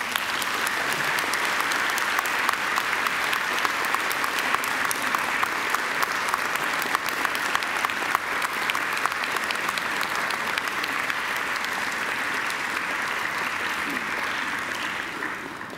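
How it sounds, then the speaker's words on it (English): Graduates at a Macquarie University ceremony give a sustained, dense round of applause to their families and friends, steady and loud throughout with crowd murmur beneath. "And now I invite you to give them a mighty round of applause."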